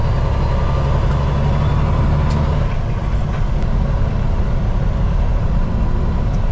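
A loud, continuous diesel truck engine drones up close in the cab as the driver shifts up through a couple of gears, with a dip in the low rumble partway through and faint higher clicks, and no talking.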